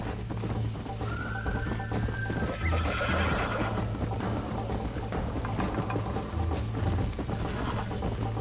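Horse in the Red Dead Redemption video game galloping with steady clip-clop hoofbeats and a clear whinny early on, heard over rattling tack and a low game music drone.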